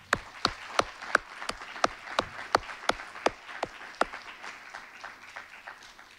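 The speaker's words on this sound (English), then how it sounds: "Let's give them all a round of applause." Scattered audience clapping at a university power and privilege symposium keynote: a few sharp, evenly spaced claps from a small group in a quiet room, thinning toward the end.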